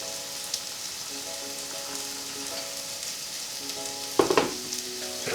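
Vegan cottage pie filling simmering in a pan gives a quiet, even sizzle over soft sustained background tones, with a brief cluster of stirring scrapes near the end.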